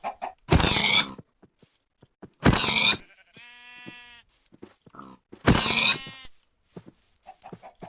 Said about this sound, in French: Mouton, mouton.